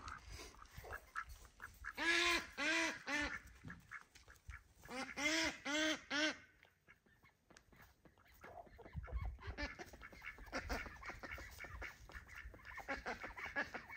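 A male duck and an Indian runner duck quack in loud, rapid honking bursts that come in two clusters, then give way to quieter chattering and rustling close by.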